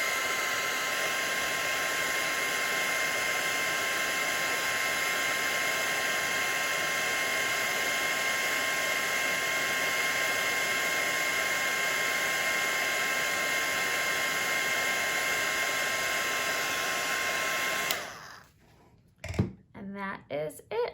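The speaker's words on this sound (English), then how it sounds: "Take my craft pick and my heat tool, and I'm just going to hold it down with my craft pick and apply heat." A craft heat tool blows hot air onto a shrink plastic topping held down with a craft pick, producing a loud, steady hiss with a whining tone that runs continuously and then switches off abruptly, leaving brief handling clatter.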